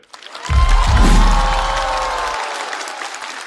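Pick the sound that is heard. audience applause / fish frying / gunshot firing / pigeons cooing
audience applause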